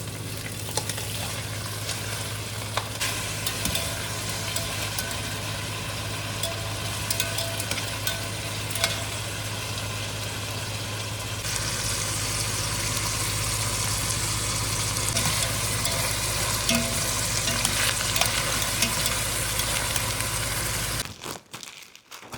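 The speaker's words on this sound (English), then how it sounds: "now we're going to go ahead and put our pot roast in right in between the onions" Pot roast searing in a pot between onions, a steady, close, loud sizzle and crackle running the whole time with a low hum beneath, brightening partway through before cutting off abruptly at the end.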